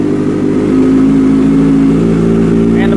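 A cold motorcycle fitted with a quieter exhaust insert runs in a garage, its engine holding a loud, steady, close low rumble with a faint rise and fall throughout.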